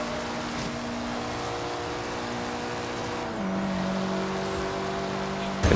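In Forza Horizon 3, engines drone steadily during a street race, a pitch shift midway as another car closes in from behind, the roar swelling slightly louder toward the end.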